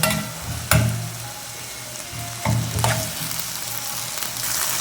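Cumin seeds hit hot oil for a potato and lentil kulambu, giving a close, steady sizzle with a few sharp crackling bursts as the seeds spit and are stirred.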